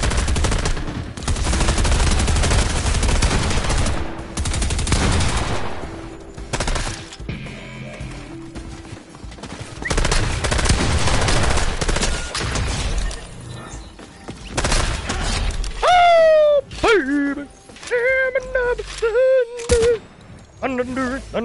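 Shotgun blasts in a ranked Fortnite match: loud, repeated close-range shots in clusters, mixed with other game sounds and fading into chirpy electronic effects near the end.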